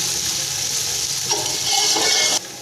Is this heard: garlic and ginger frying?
yes